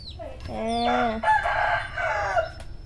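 A chicken lets out loud, close squawking clucks, a few drawn-out calls in quick succession with no one speaking.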